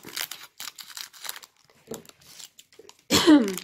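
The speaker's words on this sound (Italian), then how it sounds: "Mannaggia la tosse." A sudden loud burst at the end, after a stretch of quiet speech from a woman unboxing toys, sounds like a single harsh cough or throat-clearing close to the microphone.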